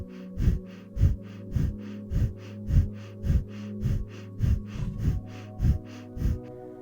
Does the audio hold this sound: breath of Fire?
yes